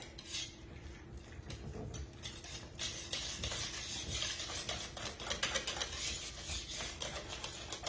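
Ricotta and egg are mixed for baked ziti, a utensil scraping and tapping against a bowl in quick, irregular strokes, quiet and close with no talking.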